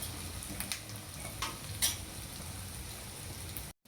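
Potatoes and carrots fry in a pan for potato carrot vepudu, a quiet, steady sizzle with a few brief stirring scrapes before the sound cuts off abruptly.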